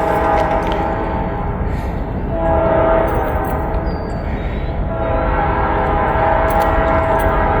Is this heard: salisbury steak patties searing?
no